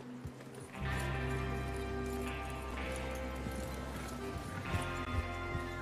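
Horses in the Red Dead Redemption 2 video game clop along in a steady trotting rhythm, moderately close, with a low rumbling bed of game ambience and music underneath.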